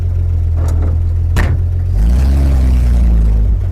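A 1950 farm truck rat rod running in gear, its old engine a loud, close, low steady rumble that deepens and strengthens partway through, with a brief clatter in between.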